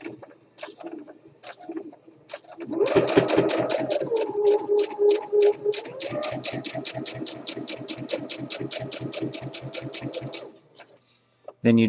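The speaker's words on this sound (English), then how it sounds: "I reverse back a couple of stitches close to the edge. And then I go forward." A home sewing machine runs a cover hem on a pant or arm hole, a steady rapid stitching patter for several seconds after brief start-stop stitches, close and fairly loud with a voice speaking before it.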